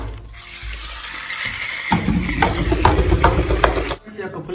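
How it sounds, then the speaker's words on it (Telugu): A battery-powered toy tipper lorry switches on and runs with a steady, close whirring motor drone and rattling gears, starting after a brief click and stopping abruptly near the end. "చూడండి ఇప్పుడు దీన్ని అయితే నేను ఆన్ చేస్తాను."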